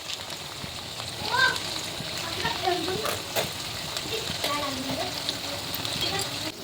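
Onions, tomato and sour yogurt frying in oil for a goat mutton chaat dish, giving a steady sizzle with scraping stirs and clinks of a spatula in the pan, a brief voice in the background.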